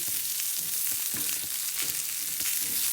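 Pancetta, cauliflower and broccoli fry in olive oil in a pan, giving a steady, close, crackling sizzle with brief stirring scrapes and no talk.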